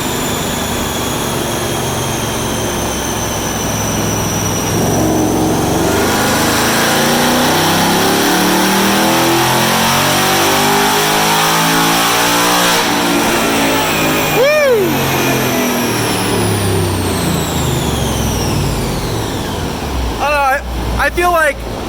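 A 2019 Ford Mustang GT with three modifications revs hard on a chassis dyno, its engine droning loud and steady throughout with rising and falling pitch sweeps, while people talk over it.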